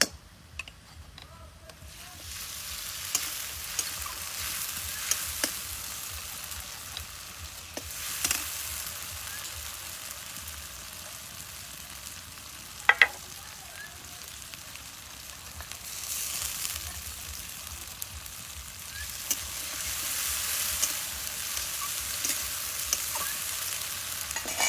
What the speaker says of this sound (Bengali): দিয়ে দেবো জিরে আর লঙ্কা,